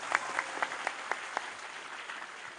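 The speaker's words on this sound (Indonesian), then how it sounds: "Tepuk tangan buat Desa Silotumpeng." Crowd applauding at a large Islamic religious gathering in a Javanese village, with a steady patter of clapping and a few sharper bursts, moderately distant and fairly faint.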